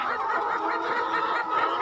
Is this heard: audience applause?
no